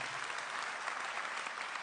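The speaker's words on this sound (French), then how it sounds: "Vous pouvez l'applaudir" An audience at an evening talk event applauds, a dense and steady wash of clapping that holds at an even level through the whole moment, heard at a moderate distance with no voices above it.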